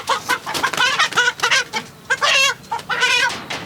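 A chicken on a farm squawks and cries loudly while being caught, with harsh repeated clucks and shrieks close by in a continuous agitated run, no talking over it.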